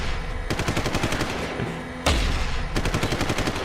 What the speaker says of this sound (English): Why are they shooting, by the way?